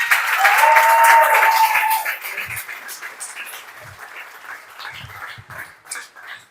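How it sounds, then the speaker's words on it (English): An audience at a squash tournament final applauds, the clapping loud at first and then thinning to scattered claps as it fades. "Big round of applause, please"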